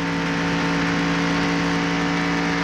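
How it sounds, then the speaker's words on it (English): Steady, loud drone of a 1995 NASCAR Winston Cup stock car engine at Daytona International Speedway, a constant high-pitched roar with stable harmonic tones and no speech. "We can hear the engine"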